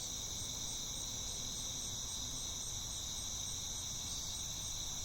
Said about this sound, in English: I think that's nature Foley-like.